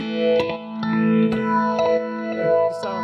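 Clean electric guitar tone run through a phaser, a sustained chord with sweeping notches and several softly re-picked strums, steady and close with no talking.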